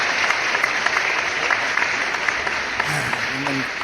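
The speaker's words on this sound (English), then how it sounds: "So we'll give her some applause." An audience claps steadily throughout at a community event, the applause dense and fairly close, with a brief voice or two rising near the end.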